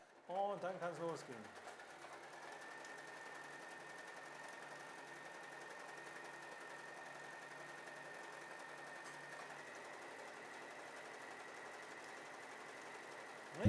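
A W6 N 1235/61 domestic sewing machine runs steadily on a short, wide satin stitch, a continuous even motor whir with rapid needle rhythm lasting most of the stretch after a brief burst of talk at the start.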